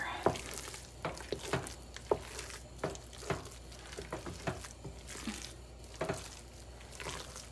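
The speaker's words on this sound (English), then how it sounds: "And stir." Mashed potatoes are stirred in a pot, heard as repeated soft thumps and scrapes in an irregular rhythm, fairly faint and close with no speech.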